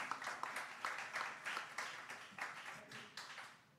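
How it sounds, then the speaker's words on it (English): Small studio audience claps for two guests on a hockey talk show, a soft, fairly faint patter of hands with a slight swell and fade over a few seconds, no talking over it. "Let's hear a round of applause for these two."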